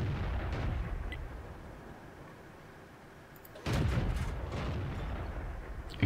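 Tank cannon in the World of Tanks game, an American M4A3E8 Sherman line: a single loud boom with a rumbling tail follows quieter battle ambience, heard without talk.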